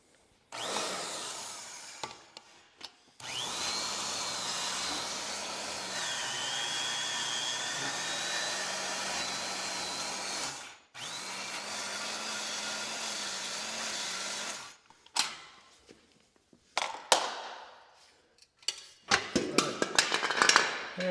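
A power cutting tool, likely an angle grinder, slices through a broken bolt on a Honda Fourtrax ATV in two long, loud, steady whining cuts, with pitch dipping under load, followed by scattered metallic clanks and knocks.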